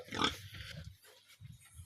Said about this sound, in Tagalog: Ito yung pinakauna ng mga baboy natin.